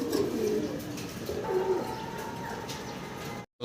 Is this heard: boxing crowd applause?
no